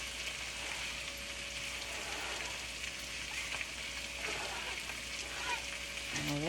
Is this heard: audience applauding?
no